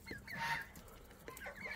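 Chickens cluck in a muddy poultry yard shared with ducks and geese, a few short, fairly close calls scattered over a faint background.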